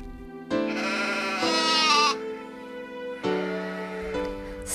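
Loud, close animal bleats in three long wavering calls separated by short pauses, with no talking.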